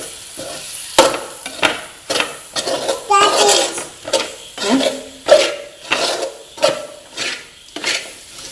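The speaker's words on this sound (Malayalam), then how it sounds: "ഇനി അതെല്ലാം കൂടി നല്ല പോലെ ഒന്ന് ഇളക്കി" Gravy with meat masala stirred in a pan, a spoon scraping and knocking against the metal in a regular rhythm of strokes, close and fairly loud over a faint sizzle.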